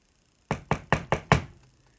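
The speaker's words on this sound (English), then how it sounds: "there came a knocking at the street door" A street door is knocked on five times in a quick, even series, sharp and fairly close, with silence before and a brief fading tail after.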